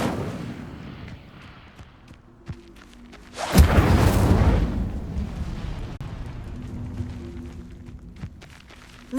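A fire spell cast in Hogwarts Legacy erupts into a loud, roaring burst that flares suddenly and then crackles and rumbles away over several seconds against a quiet game backdrop.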